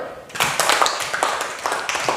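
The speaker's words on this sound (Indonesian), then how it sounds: "Mantap, tepuk tangan dulu." Schoolchildren in an Indonesian classroom clap for a correct answer, a short burst of quick, uneven claps close by, with a few faint voices mixed in.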